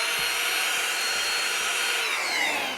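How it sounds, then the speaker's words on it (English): Vacuum cleaner sucking up debris from a model railway layout, a loud, steady, close whine with airy rushing noise and no talk. "All right, and vacuum up the mess."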